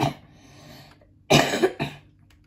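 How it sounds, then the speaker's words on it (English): A person coughs twice close by, a sharp harsh burst followed by a shorter second cough, after a quiet breathy moment. "my cough is feeling better soon"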